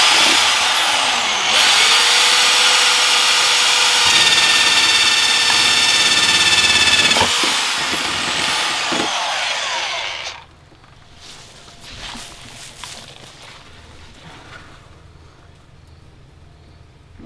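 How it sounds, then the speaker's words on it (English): A power drill whirs loudly and steadily for about ten seconds with slight pitch shifts as it bores holes in plastic, then cuts off, leaving faint clicks and handling noise. "so I'm just gonna drill some holes in it."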